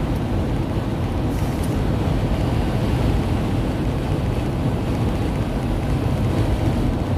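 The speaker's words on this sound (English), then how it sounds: "the wind is kicking up" Steady, loud wind gusts blow across an outdoor microphone, a dense low rumble that holds the whole time with no voices.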